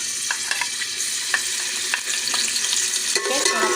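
Ginger and garlic sizzle in hot oil in a pan, a steady bright frying hiss broken by small stirring clicks and spatters, close and moderately loud with no talking.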